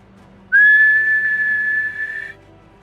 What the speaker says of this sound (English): I meant the guard whistle